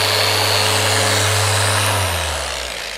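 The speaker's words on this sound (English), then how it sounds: "I'm letting the polisher do its thing." A car paint polisher running on the paint of a 2022 Ford F-150 Platinum, a loud steady motor whine that drops in pitch and winds down near the end as it switches off.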